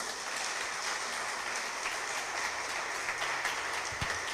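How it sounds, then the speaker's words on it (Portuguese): Worshippers at a church workers' service applaud together, a dense, even wash of clapping held at steady volume for several seconds, with a brief low thump near the end. "Vamos aplaudir o Senhor por isso?"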